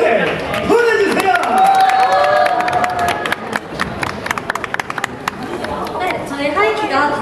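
A crowd at a live K-pop concert in Seoul applauds and cheers, clapping swelling early and trailing off, with a host speaking over the noise.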